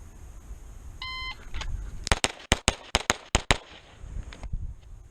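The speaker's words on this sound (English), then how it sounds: "So here we go, just speed shooting here." A shot timer beeps, then a rapid string of about nine sharp pistol shots from a Beretta 92 Elite LTT rings out at a range, loud and closely spaced, followed by quiet.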